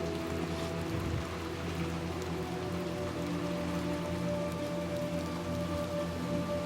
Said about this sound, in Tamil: மழை பெய்யுதுன்னு நினைக்கிறேன்டா வெளில.